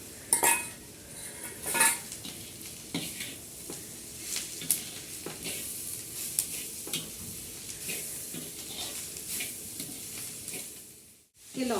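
Spice masala with chopped green chillies roasting in a pan over a traditional clay stove: a steady sizzle with repeated scraping and clinking of a metal spoon against the pan, close and fairly loud, with no speech.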